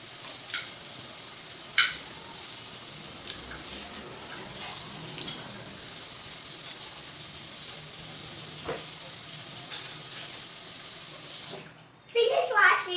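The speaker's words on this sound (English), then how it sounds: "Our big girl is washing her plate." A girl washes her plate under running tap water at a kitchen sink, a steady broadband rush of flow lasting nearly the whole time, with a small clatter near the start and a louder splash right at the end.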